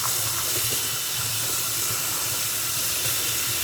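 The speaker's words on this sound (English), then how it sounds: "Now we rinse it off." A running tap rinses soap off a knife at a sink, a steady, loud hiss of flowing water with faint splashing underneath, unbroken throughout.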